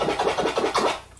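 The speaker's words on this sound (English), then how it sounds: "if you chirp in the middle of the scratch" A turntable chirp scratch on a record gives a quick run of about five short, zippy scratches in a fast rhythm, close and fairly loud.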